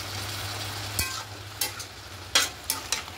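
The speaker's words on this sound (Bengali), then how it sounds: "এবার খুব ভালো করে মিশিয়ে নিয়েছি" Cabbage cooked with hilsa fish head and a little water being stirred in a pan: a low simmering hiss under a sharp knock, then several quick scraping stirs of a spoon, close by, with no speech.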